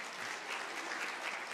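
A church congregation applauds, a short burst of steady, even clapping from a roomful of people, heard from a distance and fairly faint.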